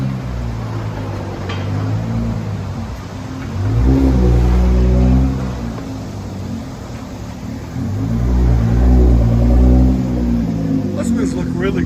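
A Nissan GT-R 3.8L twin turbo with a straight pipe exhaust, its deep engine note swelling in two loud rev surges over a rumbling idle, close and with people talking over it.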